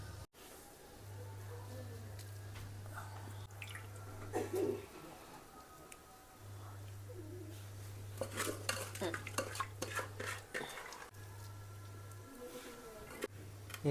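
Grated carrots stirred into hot milk in a pot for carrot halwa, with a ladle scraping and clinking against the pan in repeated bursts, a low steady hum running beneath, and people talking intermittently nearby.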